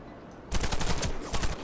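Rapid automatic gunfire in the shooter game Warface bursts in after a quiet half second, a dense, loud rattling string of shots.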